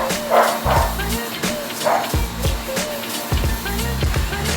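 A dog barks repeatedly in short, sharp bursts, close by and loud, over a steady background hum.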